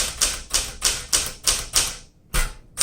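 A 1968 Smith Corona Super Sterling typewriter types up close: six sharp, evenly spaced keystrokes, a brief pause, then one more crisp strike.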